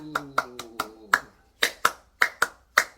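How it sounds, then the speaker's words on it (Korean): A church congregation claps in praise, about a dozen sharp, separate claps in an uneven rhythm, with a held low tone under the first second. "승리케 하시는 우리 하나님께 영광의 박수."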